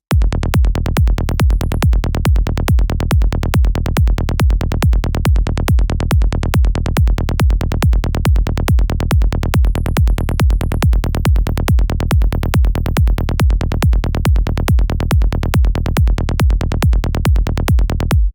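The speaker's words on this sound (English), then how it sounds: "It's a bit crusher, actually, that you can put on the bass, and it sounds like this." A gritty synth bass distorted by a bit crusher effect repeats in a steady fast rhythm, loud and continuous, with a crunchy, lo-fi digital edge.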